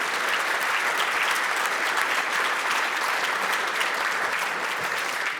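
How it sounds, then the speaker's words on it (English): Audience applause at the Canadian National Newspaper Awards gala, a steady, dense wash of clapping from a large crowd that holds at an even level from start to finish. "Il faut les applaudir. On les applaudit."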